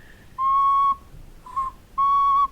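A clay whistle made for a Peruvian whistling vessel is blown in three clear, pure tones, two longer notes around a short middle toot, each standing alone with quiet gaps between.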